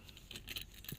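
A keyless motorcycle key fob jangles in light, metallic clinks, several quick rattles close by and fairly soft over faint background noise.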